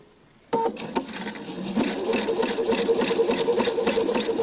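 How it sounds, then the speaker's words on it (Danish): A domestic sewing machine runs a zigzag stitch across knitted fabric, the seam joining the pieces of a knitted bolero, starting abruptly after a quiet moment and then holding a steady, close, rhythmic mechanical whir with needle clatter, with no talk. "Og så kommer jeg simpelthen til at lave zigzaggen hen over min hæftede ende."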